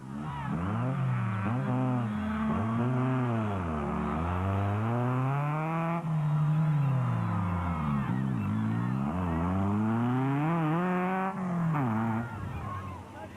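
A race car with a big Bat Spec 1 engine at the Toyota 1000 revs loudly and continuously, its pitch rising and falling through gear changes and corners, close and dominant throughout.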